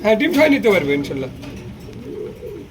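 Giant Homer pigeons coo in a loft on a pigeon farm with eggs and chicks. Low, rolling calls are heard up close, overlapping with a person talking, then quieter cooing continues.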